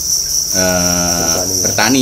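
Crickets raised on an Indonesian cricket farm keep up a loud, continuous high chirring close by, while someone speaks over them partway through.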